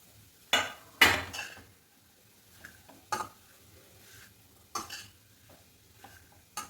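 Spoon stirring chia seeds and roasted poppy seeds into a sticky date and dry fruit mixture for sugar-free rolls, heard as a few scraping, clattering strokes against the bowl with quiet pauses between.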